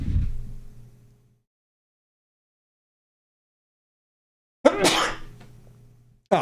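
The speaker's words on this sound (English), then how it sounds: "I have to sneeze." One person sneezes sharply twice, close to the mic, in a quiet room, with a long silent gap between the two bursts.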